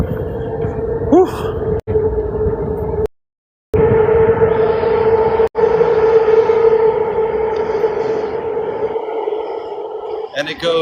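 Train rushing through an underground tunnel beneath San Francisco Bay, a steady loud roar with a high whining tone sustained throughout, briefly cutting out once, with wind rushing past.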